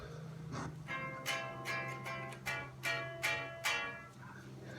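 Thin, quiet solid-body electric guitar strings strummed without an amp, a series of bright rhythmic chord strokes that ring briefly and fade between strums.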